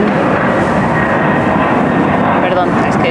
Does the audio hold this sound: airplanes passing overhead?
yes